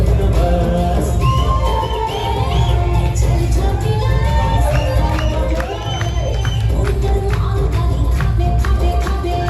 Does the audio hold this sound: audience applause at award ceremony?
yes